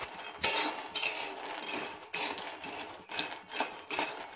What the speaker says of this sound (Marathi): हे बघा भाजून आणि सारखे ढवळतच राहायचे ना